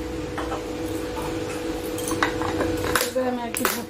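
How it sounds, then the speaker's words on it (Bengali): A bowl of black plum mix dressed with mustard oil is shaken and tossed, giving close rattling clinks and knocks against the bowl over a faint steady hum. "এবার আমি একটু ঝাঁকিয়ে নিচ্ছি।"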